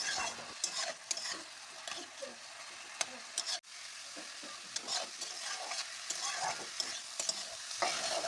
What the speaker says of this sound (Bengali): এখন ভালো করে নাড়াচাড়া করতে থাকবো যতক্ষণ না কুমড়োর জলটি